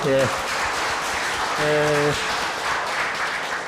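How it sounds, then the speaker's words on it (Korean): An audience at a Korean policy forum applauds a vice minister after her lecture, steady clapping heard under a voice that briefly speaks or sings tones over it. "우리 김건서 차관님께 먼저 한번 큰 박수 한번 보내주시고요"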